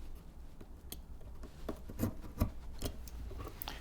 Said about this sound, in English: I'm going to cut between these 2 marks. First with my knife.